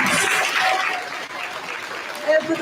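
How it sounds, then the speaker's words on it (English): An audience at a third and fourth grade school concert applauds, with dense clapping that is loudest at first and then thins under a voice that talks through the rest. "So let's give him a big round of applause as our third graders prepare to join us."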